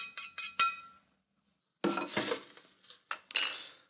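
Toasted seeds come out of a hot pan with a few sharp metallic clinks and scrapes of a utensil against the pan, in short bursts separated by a pause.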